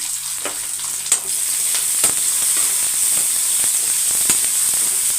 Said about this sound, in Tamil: இப்போ வெங்காயம் பாதி வதங்கட்டும்